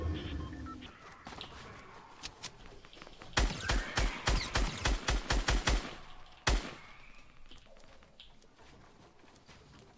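Rapid bursts of automatic gunfire in a solo-versus-squads shooter video game, a fast volley of shots followed by a single loud blast after a pause, with fainter distant shots around it.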